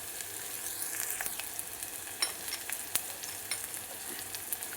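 Spinach sautéing in a pan for dal palak, giving a steady close sizzle with occasional sharper crackles and pops throughout, no voices.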